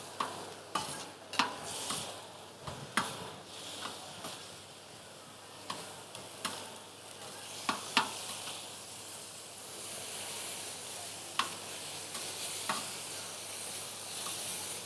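Bavette, beef flank steak, fries in a pan with a soft continuous sizzle, broken by a run of sharp scrapes and taps from a utensil stirring or turning the meat.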